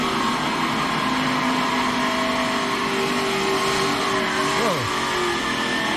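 A NASCAR Nationwide Series race car roars past on track, its engine note rising and then falling sharply as it goes by, under a constant wash of crowd and broadcast noise.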